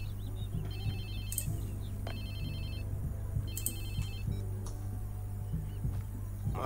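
A mobile phone in the video game Watch Dogs 2 rings with a repeating electronic trill in regular bursts, over a low steady hum, with no voices.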